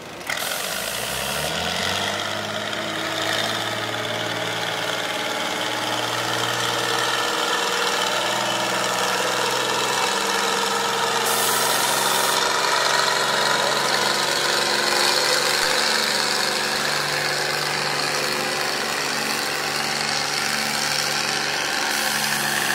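A vintage tractor engine runs hard during a tractor pull at a Sevierville power round-up, a steady loud droning roar with a rising pitch at the start, then a sustained throbbing hum that holds throughout.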